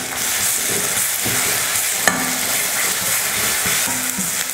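Ginger-garlic paste and onions fry in a pan for a mutton liver gravy. A steady, close sizzle runs throughout, broken by occasional scrapes and taps of stirring.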